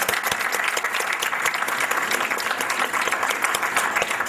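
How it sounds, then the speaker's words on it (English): An audience at a jazz event breaks into dense, steady applause, many hands clapping close and loud throughout without a pause. "Let's give them a big round of applause."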